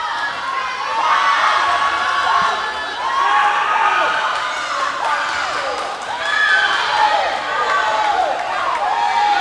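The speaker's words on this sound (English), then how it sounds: "And the rest of the Gateway swimmers are cheering on." Swimmers shout and cheer for teammates at a high school swim meet, a continuous echoing crowd roar in an indoor pool with rising and falling waves of voices.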